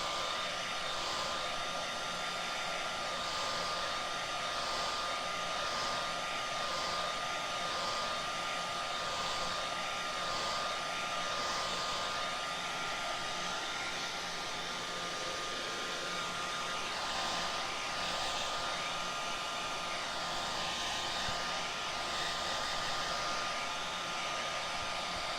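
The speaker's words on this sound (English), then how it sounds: "Blow dry this really quick." A hair dryer blows steadily for about twenty-five seconds, drying freshly painted scrap wood, a continuous loud whooshing whine with a faintly pulsing airflow and no speech.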